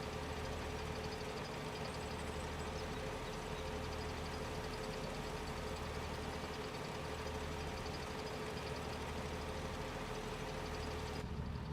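A tractor engine idles steadily in Farming Simulator, a low constant hum with a faint whine, heard alone at low level and unchanging.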